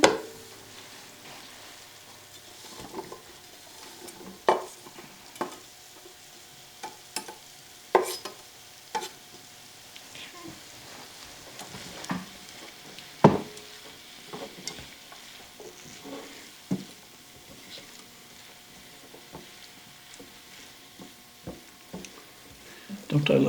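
Peppers fry in a hot pan at a home stove, giving a quiet sizzle under scattered clacks and scrapes of a utensil stirring, while people talk intermittently.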